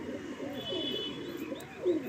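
Madrasi pigeons, a flying breed, give soft low coos a couple of times over a steady background hum, fairly close and alone without talk.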